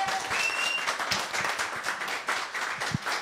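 Lively clapping from an audience for the band, irregular claps with a few sharp individual hits and some background chatter.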